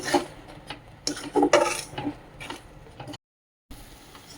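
A spoon scrapes and clinks in a pan as it stirs a coconut laddu mixture with cardamom, giving uneven bursts of scraping and knocking and then a short silent gap.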